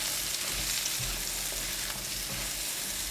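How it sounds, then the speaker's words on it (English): Luffa gourd and prawns frying in an oiled pan while being stirred, a steady close sizzle with soft scraping and stirring noises throughout, no talking. "Give it a stir again."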